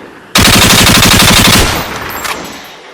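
A rapid burst of automatic gunfire rattles loudly for over a second, then trails off into a fading echo.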